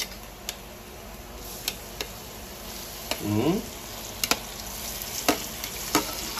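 Peeled shrimp frying in a pan with golden-brown onion and garlic, a low steady sizzle punctuated by sharp ticks and clinks of a utensil and a brief swell of louder crackling midway, with no voices.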